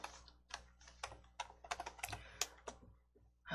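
Quiet, close typing on a computer keyboard while searching for an object in the Entry coding tool, a steady irregular patter of individual key clicks with no speech.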